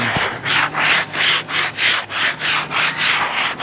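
Steady back-and-forth scrubbing of a scouring pad on greasy metal inside an offset smoker, about ten rhythmic strokes, close and loud with no talk.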